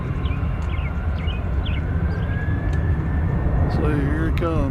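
A Southwest airliner roars steadily as it passes at Nashville International Airport, a loud, sustained engine rumble with voices over it.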